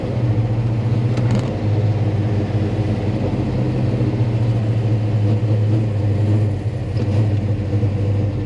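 Loud, steady engine rumble from a car fitted with Holley Dominator carburetors while driving on the street, a deep droning tone with slight rises in revs, heard close up from inside.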